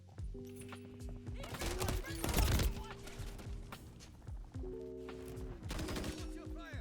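Gunfire in the Modern Warfare 3 beta, bursts of rapid automatic shots in two main clusters with sharp cracks and echoing game effects between them.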